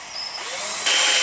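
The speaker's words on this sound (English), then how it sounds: "I've decided I'm going to drill both holes now" A power drill whines close and loud in one brief continuous burst while drilling holes in steel for a forged coal shovel, its pitch shifting as it bites into the material, with no voices.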